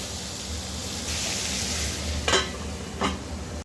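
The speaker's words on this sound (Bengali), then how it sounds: "আলুটা আমি ঢাকা দিয়ে ভেজে নিয়েছি" Potatoes fry in a covered pan with a steady close sizzle, broken by two brief scraping stirs near the end.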